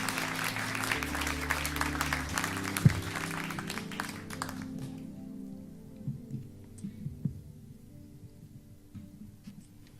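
A church congregation at a Sunday worship service applauds warmly, a dense burst of clapping for about four and a half seconds that then drops away to quieter room sounds and scattered knocks.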